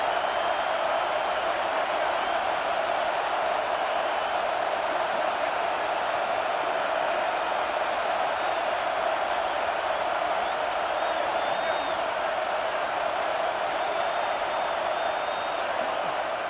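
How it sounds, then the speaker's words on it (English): A college football video game crowd in an LSU vs Auburn matchup sends up a constant, dense roar of cheering that holds at an even loudness throughout, like a packed stadium on third down. "Decibels rising as the crowd gets behind this defense on third down."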